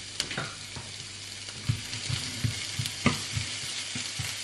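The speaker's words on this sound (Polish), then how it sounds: "I jak już masło się roztopi, to dodaję cebulę" Onion hisses and sizzles in melted butter with a little salt in a home kitchen pan, a steady fry broken by several sharp crackles and stirring clicks, close and clear with no talk.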